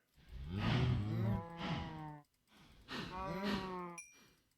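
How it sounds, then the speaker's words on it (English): Cows mooing in the Minecraft video game, two long, low, drawn-out moos separated by a short gap, clear and close, followed by a brief faint clicking sound at the end. "see how the cows do here."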